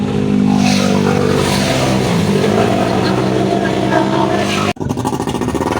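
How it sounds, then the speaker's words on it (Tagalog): A loud motorcycle engine revs up close, its rough roaring drone holding steady before cutting off abruptly and restarting with a choppier idle, with voices faintly mixed in. "Ingay ng motor."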